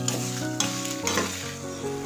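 Spice paste for a thirukkai fish curry fries and crackles in a pan, a dense, steady sizzle with a few stirring scrapes through it, heard close and with no talking.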